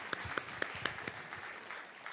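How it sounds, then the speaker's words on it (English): An audience at the Africa Youth in Tourism Innovation Summit 2023 applauds a moderator, with a few sharp claps standing out over a soft, diffuse patter that fades through the second half. "Please give our moderator a huge round of applause"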